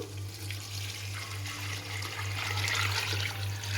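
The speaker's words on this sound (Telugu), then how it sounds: "వాటర్ ఇప్పుడు ఇందులో పోసేసుకుందాము." Water pours into a pot of rice for chicken fry piece biryani in a home kitchen, a steady running splash and trickle lasting throughout, close and moderately loud.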